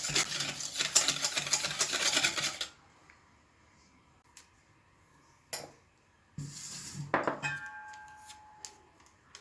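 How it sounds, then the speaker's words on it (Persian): A utensil scrapes and clinks around a bowl while mixing batter with salt, a steady burst, then quiet, followed by a few sharp knocks and more brief mixing sounds near the end. "قاطی میکنم."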